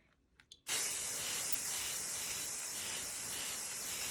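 Krylon satin black spray paint hisses steadily from an aerosol can, starting abruptly after a few quiet taps and continuing as one loud, unbroken spray close by.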